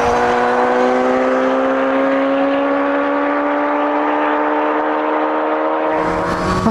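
Kawasaki Z800 roadster engine holding a steady, loud rev, its even harmonic drone rising slightly in pitch throughout, with a brighter burst of exhaust near the end; no voices.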